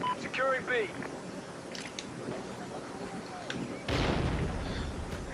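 Gunfire in the video game Call of Duty: Ghosts, with a heavy burst of shots near the end over steady background game noise, while a player talks earlier in the clip.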